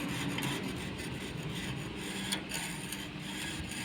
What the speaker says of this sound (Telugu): మన స్క్రూ డ్రైవర్తో చాలా నీట్గా ఈ సిమెంట్ మొత్తం మనకి ఇలా తీసేసుకుని